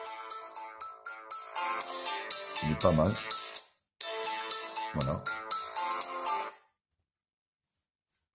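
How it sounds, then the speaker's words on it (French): A ringtone melody plays on a UMIDIGI S2 Lite phone, loud and close, running for about six seconds with a short break midway. Someone speaks briefly over it during the two pauses, and then it stops. "sonnerie du téléphone."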